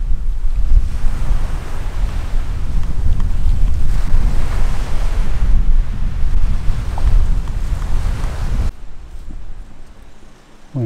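Surf rolls in steadily on Bendita Beach in the Islas del Rosario at night, a continuous loud wash of waves with some wind rumble, easing off abruptly near the end.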